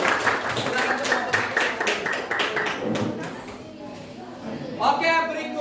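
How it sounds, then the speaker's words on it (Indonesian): A classroom crowd claps for a student presentation group, a few seconds of steady hand clapping that thins out, with voices talking over it. "Kita beri aplaus dulu untuk kelompok 1."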